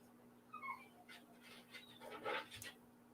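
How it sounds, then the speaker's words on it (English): A dog whimpers faintly with high, wavering whines, and some panting and small yips follow in a quiet room under a steady background hum. "Here goes my annoying ass dog."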